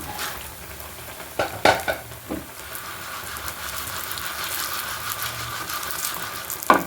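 Dried chilies and curry leaves fry in oil in a pan, a steady soft sizzle broken by a few sharp clanks and scrapes of a spoon stirring against the metal, close up and with no talk.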